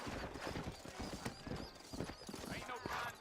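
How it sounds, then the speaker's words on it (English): Horses trotting with rhythmic hoof clip-clop and an occasional whinny in the Western video game Red Dead Redemption, set in New Ulster, with the hooves running steadily under a voice. "You ain't gonna find sturdier horses than these in all of New Ulster."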